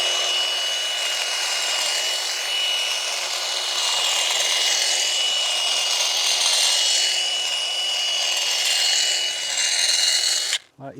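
A Milwaukee handheld pruner cuts through dappled willow branches outdoors, giving a steady, close whirring buzz that runs almost unbroken for about ten seconds before stopping abruptly.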